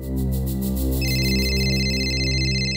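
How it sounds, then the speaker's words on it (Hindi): A phone rings with a steady electronic ringtone, bright repeating tones that grow fuller partway through, loud and close with no talking. "आपका फोन बज रहा है, उठाइए।"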